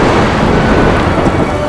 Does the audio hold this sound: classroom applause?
no